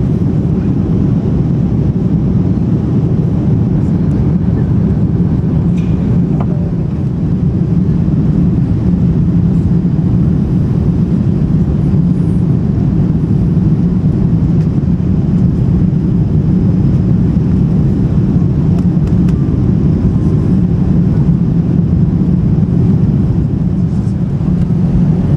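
Ilyushin IL-96-300 airliner of Cubana, flaps fully extended on landing approach at about 250 km/h, giving a steady, loud, broad engine and airflow roar that holds unbroken throughout.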